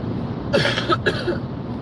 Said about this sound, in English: Pardon me again, I made a cough.